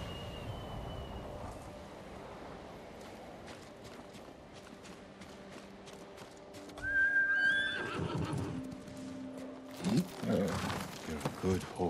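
Kage, a horse in Ghost of Tsushima, lets out a loud whinny partway through, followed by snorts and hoofbeats speeding into a gallop, with ambient game sounds and some voices in the background.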